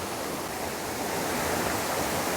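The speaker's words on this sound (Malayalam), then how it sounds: "ഈ ഒരു വെള്ളച്ചാട്ടമാണ്" Dense, continuous roar of a waterfall behind a temple in Kerala, a broad hissing rush of falling water heard close and steady, with no voices.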